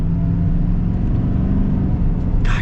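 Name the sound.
GMC Sierra 3500 Denali dually truck accelerating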